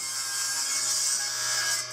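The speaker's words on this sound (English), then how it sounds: "So I'm going to cut one face off on the saw, flip it over, cut the other side off." A saw cuts the faces off rough wood boards to flatten them for slat strips, a steady close hiss and rasp held continuously without pause.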